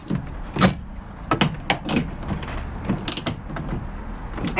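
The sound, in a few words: tightening bolts on Mazda MX5 gearbox boot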